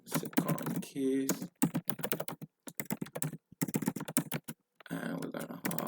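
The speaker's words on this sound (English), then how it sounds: "type all of this information back over" Close, crisp computer keyboard typing comes in rapid bursts separated by brief silent pauses, loud and with no talk over it.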